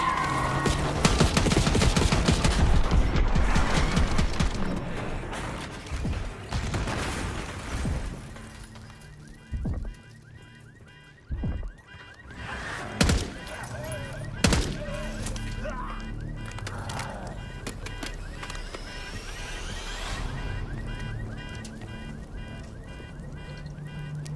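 Rapid bursts of gunfire sound in the Call of Duty Black Ops 6 campaign, loud and dense at first, then sparser single shots and impacts under game music and voices.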